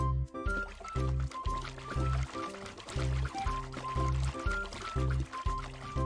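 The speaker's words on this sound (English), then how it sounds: "Insert the oil gun and fuel the car." Fuel pouring into a car's tank in a children's cartoon game, a cartoonish glugging pour sound over a rhythmic, bouncy music loop.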